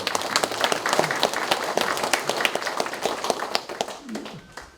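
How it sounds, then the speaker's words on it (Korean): An audience at the opening ceremony of a Korean filial piety culture institute claps warmly, a lively burst of distinct, overlapping hand claps that gradually thins out and fades toward the end. "우리 함께 뜨거운 박수로 감사 인사드립니다."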